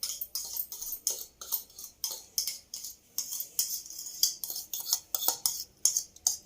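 A utensil scrapes and clinks rhythmically against a pan while gram flour and ghee are stirred for Mysore pak, steady quick strokes repeating close and clear with no voices.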